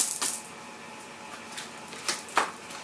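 Tarot cards being cut and shuffled, a few quick papery slaps and riffles, brief and fairly close against a quiet room.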